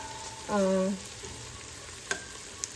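Onions frying in a pan for moru curry, a soft, steady sizzle in the background, with a short clear tone partway through and a couple of light clinks of a utensil.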